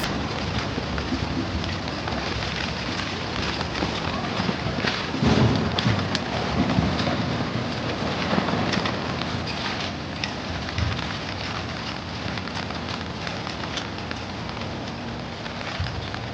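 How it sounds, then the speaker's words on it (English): Heavy rain pours steadily at night in an outdoor city plaza at Rockefeller Center, a dense continuous hiss of drops spattering on hard surfaces with occasional louder splashes. "It looks beautiful, it's just raining like crazy."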